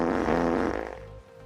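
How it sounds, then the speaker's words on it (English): A single loud, buzzy fart sound effect from the Path of Exile game event, a sustained rasping blurt that trails off and fades out after about a second. "I cannot focus with the farts"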